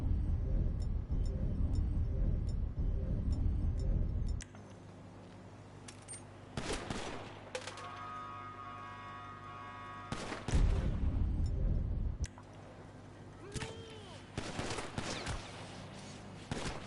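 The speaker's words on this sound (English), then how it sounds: "Where am I being shot at?" Bursts of rapid automatic gunfire and single shots in Grand Theft Auto, loud volleys separated by quieter stretches, with a sustained low hum and a brief ringing tone between bursts.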